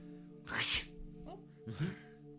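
A single sharp sneeze bursts out, followed by a brief softer exhale and a second breathy burst, close to the listener.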